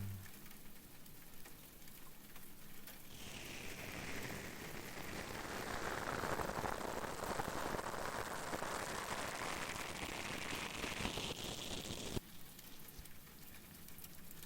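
Steady rain falls as a soft, even hiss, swelling gently in the middle and then cutting back to a quieter background near the end.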